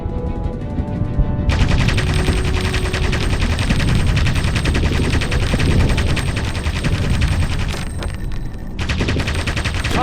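Rapid machine gun fire from an aircraft in the Aviator flight combat game, a dense continuous burst of shots that starts after a brief lead-in and rattles on loudly for several seconds alongside engine drone.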